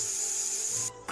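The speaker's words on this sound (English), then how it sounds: "We release the pressure" A small pressure cooker from India releasing its steam pressure slowly, a steady loud high-pitched hiss that holds close and constant, breaks off briefly near the end, then resumes.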